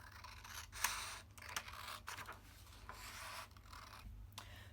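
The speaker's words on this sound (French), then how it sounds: "Je vais découper mon patron." Scissors cut out a paper sewing pattern for a fabric face mask with soft, close snips and papery rustling, a sharper snip early on, and no voices.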